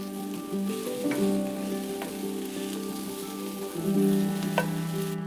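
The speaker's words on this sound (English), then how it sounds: "Saute and let those flavors sizzle for about 4 to 5 minutes." Fried rice with soy sauce sizzles steadily in a pan over medium heat, a continuous close frying hiss with faint stirring scrapes and soft background tones.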